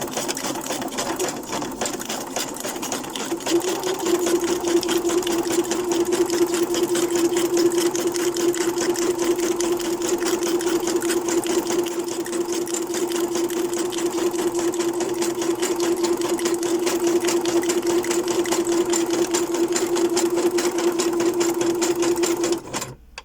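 Sewing machine running a zigzag stitch across a journal page, a fast, continuous mechanical whir with a steady motor hum, close and even for the full stretch before stopping abruptly, no talking.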